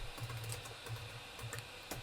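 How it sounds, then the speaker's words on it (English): Typing on a computer keyboard comes through as soft, quick clusters of key taps, faint and close, in short irregular bursts with no voice. "here I'm just typing npm audit fix"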